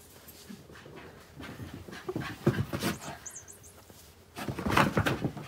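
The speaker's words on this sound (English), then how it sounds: "My dogs are going crazy." Several dogs pant and scramble about indoors, moving from room to room, with quick breathy panting, scuffling and occasional thumps that come in uneven bursts and grow louder toward the end.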